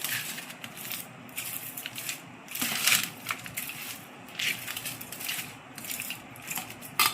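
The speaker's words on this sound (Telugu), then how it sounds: "అన్నంలోని ఈ తాలింపుని అటు ఇటు" Tamarind rice being tossed by hand with a hot tempering, giving soft, irregular crunching and squishing sounds close by, with no talking.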